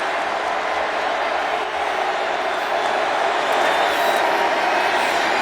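A football stadium crowd roars at a college bowl game between Memphis and Penn State, a dense, continuous wall of cheering and noise that swells slightly near the end, with a faint voice mixed in.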